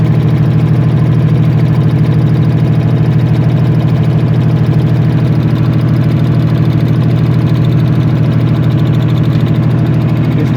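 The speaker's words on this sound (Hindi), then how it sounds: "ये देखिए अभी ये जनरेटर चल रहा है।" Diesel generator running at a steady idle, a loud, close, continuous low drone with a constant mechanical vibration and no change in pace throughout.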